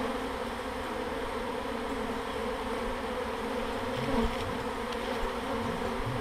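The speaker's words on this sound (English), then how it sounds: "There's some bees down here on the ground also." Honeybees buzz steadily around a cardboard box and on the ground at an urban hive, a continuous close drone with a few louder passes near the microphone.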